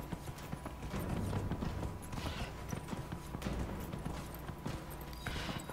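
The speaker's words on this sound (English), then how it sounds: "let's wrap this horse race up" A horse gallops in a race in the game Dragon Age: Inquisition, its rapid hoofbeats thudding in a continuous rhythm, close and fairly loud over steady outdoor game ambience.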